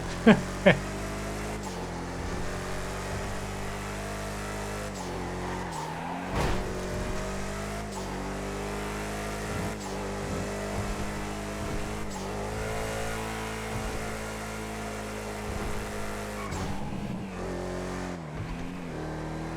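A racing car engine in GTA V drones steadily with rising and falling revs, a couple of sharp knocks at the start, and faint talk underneath.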